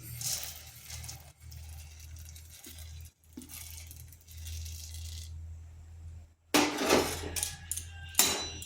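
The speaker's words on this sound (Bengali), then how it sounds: "কড়াইতে জল ফুটছে, এই ফুটন্ত জলে আমি সাবুগুলো দিয়ে দিচ্ছি" Sago pearls poured from a container into boiling water in a wok rattle and patter against the metal, with quiet steam and bubbling underneath, then a louder clatter near the end.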